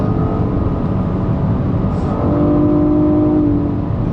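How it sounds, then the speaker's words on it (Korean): A Nissan Maxima 3.5 V6 engine hums steadily from inside the cabin, a low constant drone with a slight rise in pitch partway through. "이 엔진 사운드 이거 마음에 든다"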